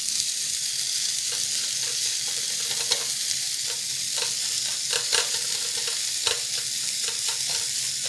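Cheese fries on high heat in a Velosan pink ceramic non-stick pan, giving a steady, dense sizzle with faint crackles throughout. The sound is close and continuous, with no talk.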